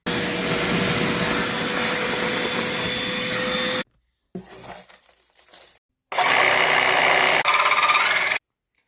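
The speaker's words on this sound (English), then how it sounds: "we got this DeWalt reciprocating saw. DCS 382." DeWalt DCS382 cordless reciprocating saw running in loud bursts, a steady buzzing whine, then a short rougher stretch, then another full-speed burst, separated by abrupt silences.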